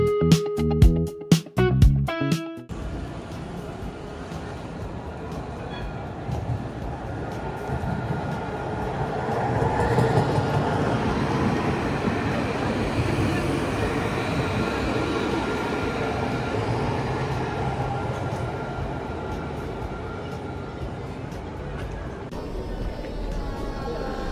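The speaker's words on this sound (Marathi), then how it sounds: "ट्राम लाईन D आहे आणि इथून डायरेक्ट स्ट्रासबुर्ग सिटीमध्ये जाऊ." Strasbourg tram on line D rolls along, a steady low rumble and rattle of wheels on rails heard from inside, after a few sharp clunks at the start.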